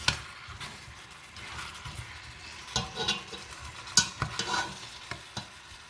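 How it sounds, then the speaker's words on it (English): Homemade marmalade being stirred in a pot: a quiet bubbling sizzle broken by scattered scraping and tapping strokes of a spoon, near and uneven, with no speech. "Just keep on stirring it. Keep on stirring it till they become soft."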